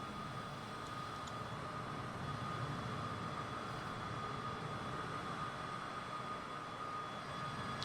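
A Cessna light aircraft flying near Uluru (Ayers Rock) in central Australia, its engine a steady, distant drone with an even, unchanging level and no voices over it.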